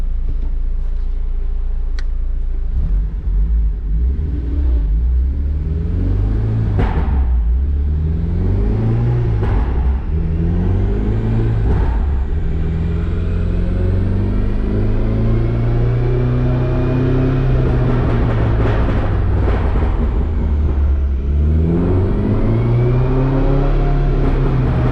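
An Acura RSX's K24 engine with a crackle-and-burble exhaust tune revs up and down repeatedly. A deep, loud exhaust drone rises and falls, with occasional sharp pops on the overrun.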